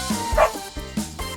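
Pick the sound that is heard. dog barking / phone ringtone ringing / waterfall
dog barking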